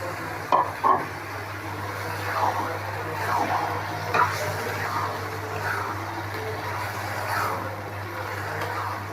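Boiled beef tripe frying in a cooked-down spice masala, with a soft continuous sizzle, scraping stirs and a few sharp clacks from the spoon against the pan, plus a low steady stove hum underneath.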